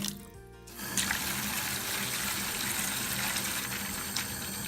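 Water gushes steadily from a tap into a tray, a continuous splashing rush after a brief quieter start.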